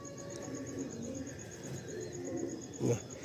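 Andhra pigeons kept in a loft at night give soft, low cooing calls in short repeated phrases, close by, with a brief louder flutter or call near the end.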